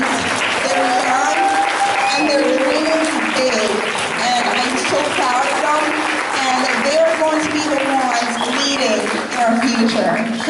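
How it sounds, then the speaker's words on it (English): An audience applauds students at a school ceremony, a dense, sustained roar of clapping from a large crowd, with voices and cheers mixed in throughout. "please give just a round of applause for these students"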